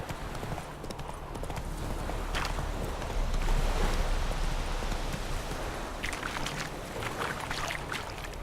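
Roach the horse galloping in The Witcher 3, a steady close rapid clip-clop of hooves over a continuous rumbling ground noise, with no talking.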